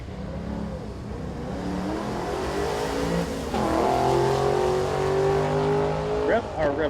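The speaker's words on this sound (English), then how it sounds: "A fourth and fifth generation Camaro coming up now." Fourth and fifth generation Camaro drag race cars at a Hot Rod Drag Week starting line rev their engines in rising, stuttering bursts with a sharp climbing tone near the end, loud and close, with a commentator's voice over the top.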